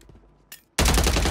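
Burst of rapid video game gunfire on Rebirth Island, a loud sustained automatic volley that cuts in abruptly after a short quiet stretch and a brief click.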